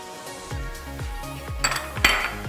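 Matcha amaretti cookie dough being mixed in a bowl, with rhythmic scraping and clinking strokes about twice a second, close and moderately loud.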